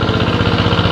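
A tractor engine ploughing a rice paddy chugs in a loud, close, rapidly pulsing low drone, steady for the whole brief moment.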